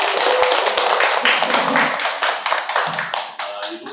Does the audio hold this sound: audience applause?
yes